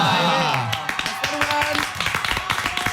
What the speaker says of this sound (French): on va applaudir Louane